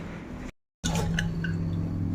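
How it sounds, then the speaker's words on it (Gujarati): Water is poured over dal in a kitchen vessel to rinse it, a brief close trickle and drip following a short break in sound. "દાળમાં પાણી નાખીને થોડુંક વોશ કરી લઈએ"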